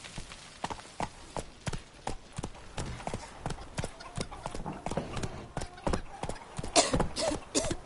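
Roach, the horse in The Witcher 3, gallops with sharp, close hoofbeats striking in a quick, uneven rhythm, the clatter continuing throughout.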